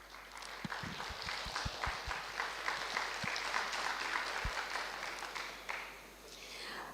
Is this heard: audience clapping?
yes